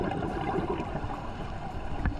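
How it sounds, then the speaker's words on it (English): Boat engine heard underwater while diving at Crystal Bay, Nusa Penida, a continuous muffled droning rumble mixed with bubbling water, steady and moderately loud. "The only thing that was annoying was the boat sound."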